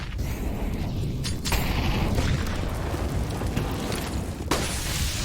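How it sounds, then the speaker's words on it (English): Grenades explode in a volley across the A site of Dust2 in Counter-Strike, a dense, continuous rumble of overlapping booms and bursts that stays loud for the whole stretch. "Volley of grenades cascade onto the A side."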